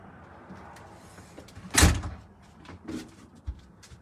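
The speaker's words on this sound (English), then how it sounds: "I think I'm going to shut the door." A door is pushed shut indoors with one sharp, loud thud, followed by a few softer knocks and rustles, no talking.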